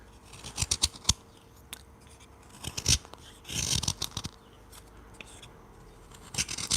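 A knife hand-carves a tribal mask from soft Swiss pine, making close, quiet slicing and scraping cuts in short irregular bursts with brief pauses between strokes.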